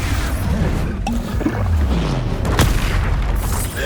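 Booming spell blasts from Hogwarts Legacy combat, a heavy low rumble sustained through the clip with sharp cracks near the middle and a bright hit around two and a half seconds, loud and close.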